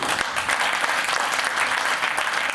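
Audience applause fills the room at a lecture, steady dense clapping from many hands, loud and continuous throughout with no talking.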